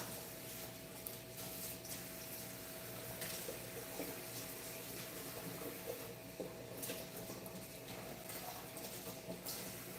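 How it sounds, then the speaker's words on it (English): Tap water running steadily while pot covers are rinsed in a kitchen sink, a soft continuous splash with occasional clinks and bumps, fairly faint and alone. "So we're gonna get our pot covers,"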